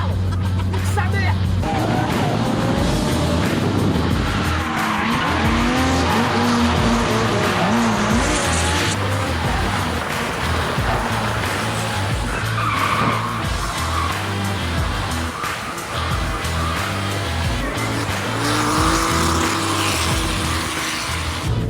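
Drift cars slide along a French touge mountain road, loud continuous engine roar with long tire squeals and skidding close by, while voices and crowd chatter run underneath.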